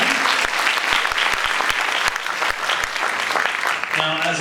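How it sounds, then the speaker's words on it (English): Audience at a Probation Week general assembly breaks into loud, dense applause that continues steadily, with a voice starting up over it near the end. "applause for them"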